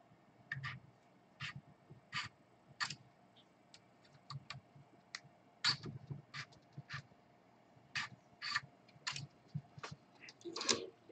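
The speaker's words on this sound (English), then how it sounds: "the filament slipping through the Bondtech gears" Quiet, irregular clicking and ticking from a 3D printer extruder as filament slips through Bondtech gears, small sharp snaps repeating unevenly over a faint steady hum.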